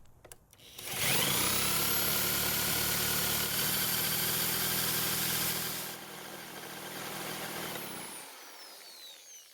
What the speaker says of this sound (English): Next, I'm going to use my drill to try and get it to start.